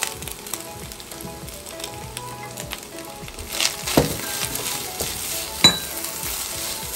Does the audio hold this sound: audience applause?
no